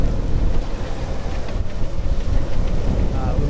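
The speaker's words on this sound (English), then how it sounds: "it's still pretty windy" Strong wind of about 30 knots roars and buffets the microphone continuously on a boat at night, with a low rushing rumble like gusts across an open deck.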